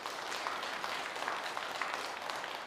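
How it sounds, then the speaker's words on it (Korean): Applause from a church congregation during a Sunday worship service, a dense continuous patter of many hands clapping, steady and fairly close with no voices. "인사할 때 크게 박수해 주시기 바랍니다"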